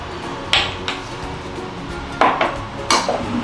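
A spoon clinks and scrapes against a bowl while shrimp marinade with salt and pepper is stirred, a few sharp close taps over a soft background, with no talk.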